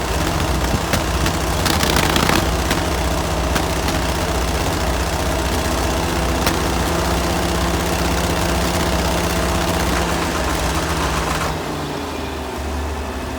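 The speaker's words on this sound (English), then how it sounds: "Unburnt fuel coming out of the exhaust, smoke, chug, misfires like a gas engine that has a spark plug wire burned off" A John Deere 6600 tractor's diesel engine idles misfiring with a rough, uneven chug and occasional knocks, loud and close, then drops to a lower steadier rumble near the end.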